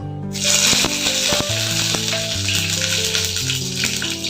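Curry leaves crackle and sizzle loudly in two spoons of hot oil in a pan. The frying hiss is close and steady, with sharp pops scattered throughout and a low hum underneath.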